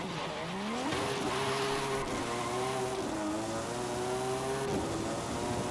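A car on soft suspension in a racing video game hums along at steady revs, its engine tone climbing and shifting through gears continuously, close and fairly loud, with no talking.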